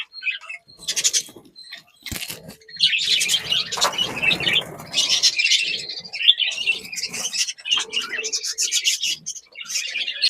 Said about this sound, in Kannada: ಸಾಕಷ್ಟು ಲವ್ ಬರ್ಡ್ಸ್ ಇದಾವೆ ನಮ್ಮ ಹತ್ರ